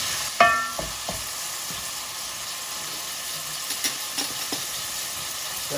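Lamb searing and frying in a pan for a British Indian restaurant-style railway lamb curry, a steady bright sizzle with a sharp crackle near the start and a few soft stirring knocks, no voices.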